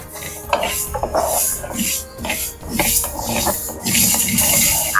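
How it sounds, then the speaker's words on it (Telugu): Fenugreek and mustard seeds are lightly dry-fried in a pan for mango pickle, heard as loud, close, repeated scraping and rattling of a spoon against metal as the seeds are stirred. "ఇప్పుడు వీటిని మంచిగా లైట్గా ఫ్రై చేయాలి"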